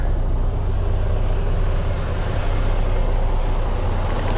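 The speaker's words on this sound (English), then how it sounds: "Let me just pop out so you can listen to the motor." A 2014 Freightliner Cascadia tandem-axle truck engine runs steadily nearby, a loud, even low rumble that holds constant without revving or talk.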